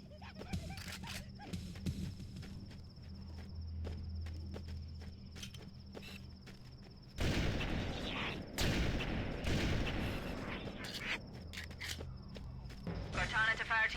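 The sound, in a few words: gunfire in the video game Halo: Combat Evolved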